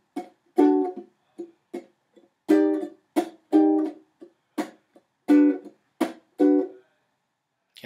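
Ukulele strum pattern mixing pitched down and up strums with short percussive muted chops, played close and alone in a halting, syncopated rhythm with brief silences between strokes.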